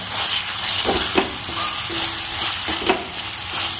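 Onion sautéing with spices in hot oil in a pan for chole, a steady close sizzle broken by a few scraping stirs of a spoon, no voices.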